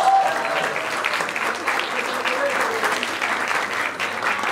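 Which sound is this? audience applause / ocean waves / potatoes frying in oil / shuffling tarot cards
audience applause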